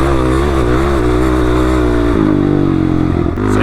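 A quad bike engine warming up before a desert ride, a loud close buzzing idle that rises and falls in rev with a rough, clattering tone, no voices.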